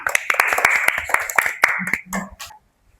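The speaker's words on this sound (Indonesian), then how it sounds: "Tepuk tangan untuk kelompok 2" A class applauds a student group after its presentation, a burst of sharp, scattered claps close by, mixed with voices, thinning out and stopping abruptly near the end.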